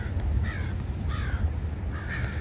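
Crows caw outdoors in three separate bursts of harsh calls, moderately close, above a constant low rumble of background noise.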